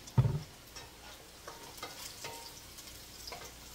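Beef and vegetables sizzling in a pan as soy sauce goes in, opening with a low splash and a soft steady frying hiss, light stirring clicks scattered on top.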